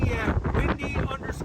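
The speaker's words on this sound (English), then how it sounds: "All this damn wind." Strong wind buffets the microphone on a windy day outdoors, a loud, continuous roaring rumble that fills the whole moment without a break.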